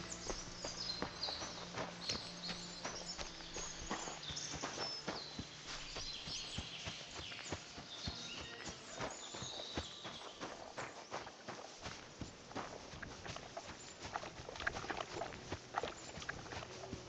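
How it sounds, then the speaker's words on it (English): Horses' hooves clip-clop steadily on ground in a medieval Kingdom Come Deliverance II setting, with a faint, continuous walking rhythm and light bird calls in the background. "Lovely horses you have here."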